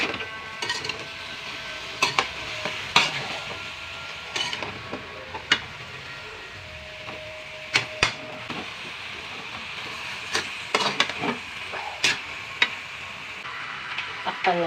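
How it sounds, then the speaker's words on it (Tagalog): Pakbet vegetables cooking in a pan while being stirred, a steady sizzle broken by irregular sharp clacks and scrapes of the utensil against the pan, close up, no talk. "Haluin lang natin para magpantay yung ating lasa ng ating niluluto."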